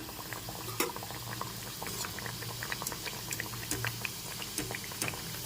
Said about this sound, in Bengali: এভাবে আমি একটু রেখে ভেজে নিচ্ছি কিছুক্ষণ এভাবে রেখে ভেজেছি মিডিয়াম ফ্লেমে রেখে এটাকে ভেজে নিতে হবে